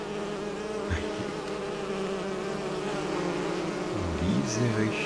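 Bees buzz in the fantasy video game Enderal as a steady insect drone over a continuous ambient bed, with a few louder swells where a bee passes close.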